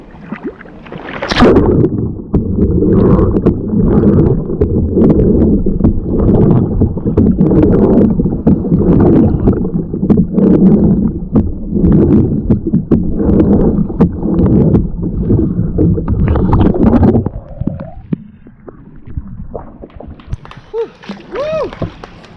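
A kayak is paddled and rolled on open water during an outdoor festival rolling demonstration, with steady splashing and wind-buffeted rumble for most of the stretch before it eases into quieter water sounds near the end.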